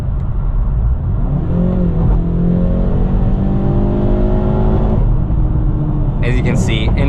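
A 2022 Hyundai Veloster N with a dual-clutch transmission accelerating in N mode, heard from inside as a loud rising engine drone that climbs through a gear, with a brief burst of other noise near the end.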